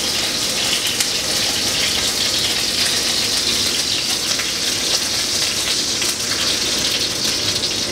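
Venison sizzles in hot oil in a pan, a loud, steady, dense hiss that continues without a break and without talk.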